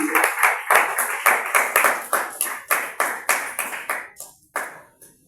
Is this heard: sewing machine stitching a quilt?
no